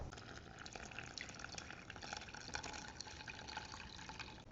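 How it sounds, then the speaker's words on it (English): Water poured into a pot while making homemade playdough, a steady continuous splashing and trickling stream lasting several seconds, close and fairly soft, with no voices. "Next, add 4 cups of water,"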